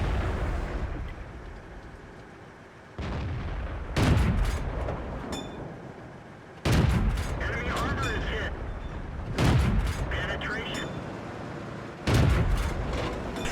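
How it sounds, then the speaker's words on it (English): Heavy cannon shots boom in a tank battle game, with a T21 light tank attacking on the Sand River map. Several loud blasts arrive seconds apart over continuous battle rumble, with a voice commenting over them. "He tried to sneak in one last shot there after he got seen and he didn't hit it"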